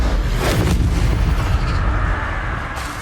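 Explosive Confringo spell blast in the Hogwarts Legacy video game, a loud booming burst with a rolling low rumble that fills the whole moment amid ongoing spell combat, no talking heard.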